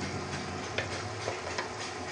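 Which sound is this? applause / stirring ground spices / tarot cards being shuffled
stirring ground spices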